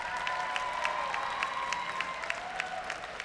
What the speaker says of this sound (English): another round of applause for everyone who's performed so far.